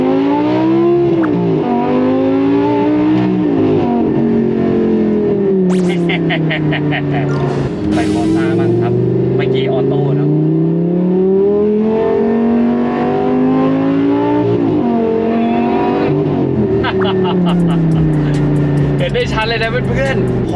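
Lamborghini Huracán EVO supercar accelerating, a loud, close engine note rising and falling steadily throughout, with someone talking over it.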